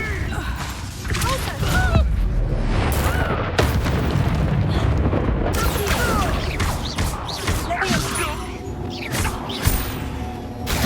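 Explosions from the Confringo fire spell during a chaotic battle in the video game Hogwarts Legacy, with repeated booms, crashes and whooshes under shouted voices and busy game effects.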